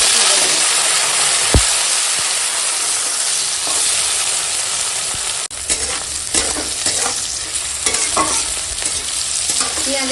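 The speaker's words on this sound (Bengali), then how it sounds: "পেঁয়াজের সঙ্গে এখন বরবটি ঢালটাকে খানিকক্ষণ ভেজে নিয়েছি।" String beans and okra fry with onion in hot oil left from frying fish, a steady close sizzle with stirring scrapes and a brief knock near the start.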